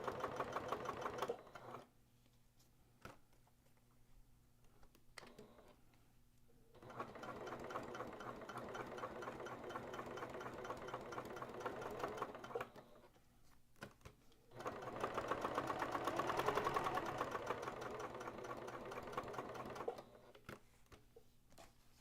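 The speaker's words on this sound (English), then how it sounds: "I'm just gonna baste it around here." A sewing machine bastes fabric for an Iron Man pack, running in several bursts of steady rapid stitching separated by brief pauses, close and fairly loud with no talking.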